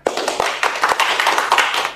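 Audience clapping at a religious sermon, a dense burst of many hands applauding steadily and fairly loudly for about two seconds, with no speech over it.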